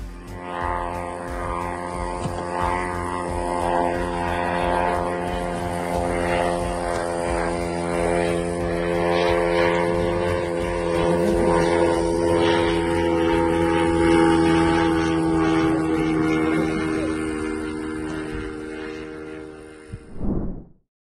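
A Ukrainian Bober attack drone flies with a steady, droning propeller engine whine, loud and sustained for about twenty seconds before cutting off abruptly.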